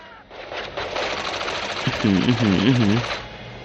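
Gunfire from the video game Gangstar Vegas rattles as a steady rapid automatic burst over a few seconds. Someone speaks over the shots.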